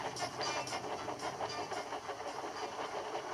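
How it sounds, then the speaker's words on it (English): A steam locomotive braking gives a continuous loud hiss with rhythmic pulsing chuffs and rail clatter, steady and close throughout. "Gently braking, Edward's driver checked the engine's speed"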